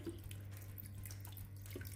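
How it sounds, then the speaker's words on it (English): Tap water runs steadily into a cooking pot holding ingredients to be boiled, a close, continuous splashing flow with a low hum beneath, no voices. "We'll put just enough water to cover them"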